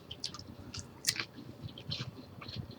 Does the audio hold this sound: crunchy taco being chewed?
yes